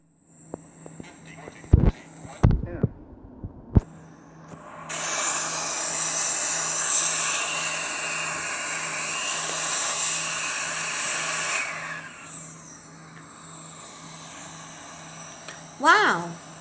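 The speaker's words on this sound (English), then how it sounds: "So, the 737 takes off. Does it land?" A Boeing 737 landing on a small runway in a flight video game: a sustained jet roar swells up and holds for several seconds mid-clip. Sharp clicks and a person talking come before it, and a voice returns at the end.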